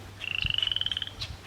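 Frogs croak at a pristine pond deep in virgin Quebec forest, giving one fast, steady rattling trill of about twenty pulses, fairly close and clear over a quiet background, followed by a brief softer call.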